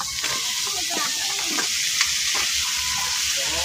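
Chopped mixed vegetables sizzle and fry in a hot pan for a home-cooked dish, a steady hiss with scattered stirring scrapes and clinks throughout, fairly close and with no talk.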